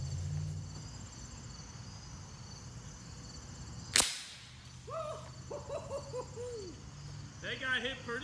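A Winchester Model 70 big bore air rifle fires a .357 JSB 81 pellet at two playing cards set together: one sharp, loud crack mid-clip, followed by voices talking.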